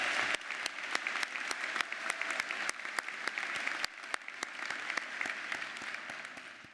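Applause for a graduating dental class at a white coat ceremony: dense crowd clapping with scattered sharp individual claps standing out, steady and fairly distant-sounding, continuing without talk.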